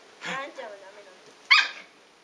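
A dog barks sharply twice in close succession while attacking another dog, loud and near, with a whimpering whine between the barks.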